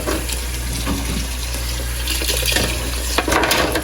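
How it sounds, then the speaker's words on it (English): Hot soapy water runs steadily from a tap to soak the racks of a Masterbuilt smoker, a continuous close hiss and splash with a few louder gushes near the end. "I try to soak all of the racks in some hot soapy water."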